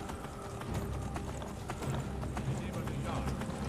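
Rapid hoofbeats of a galloping horse in Skyrim Anniversary Edition clatter continuously at moderate volume, with faint background noise and no clear pauses.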